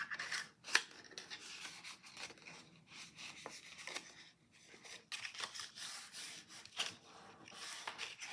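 Paper flaps of a confetti lid box being folded down toward a desk, heard as soft, close rubbing and crinkling strokes that come in uneven bursts with brief pauses between them.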